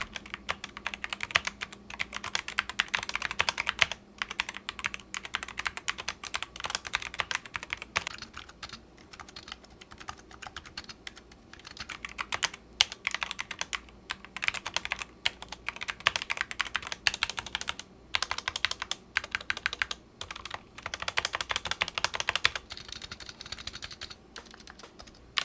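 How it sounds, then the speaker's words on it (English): Keystrokes on Razer Huntsman Mini and SteelSeries Apex Pro mechanical keyboards, a dense, steady patter of clicky presses running close and continuous for about twenty-five seconds with a few brief pauses, no voices. "Let's do a quick sound comparison between the SteelSeries and the Razer now."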